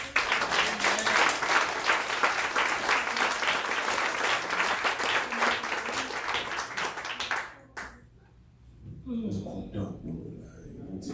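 Applause fills a church, dense and steady for about seven seconds before cutting off abruptly, followed by a few quieter voices speaking.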